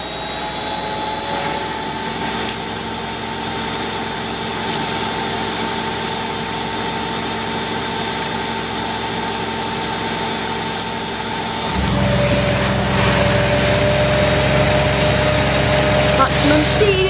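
A washing machine on its maximum spin speed gives off a loud, steady mechanical whine and rumble that holds constant, then deepens into a heavier low drone about two-thirds of the way through.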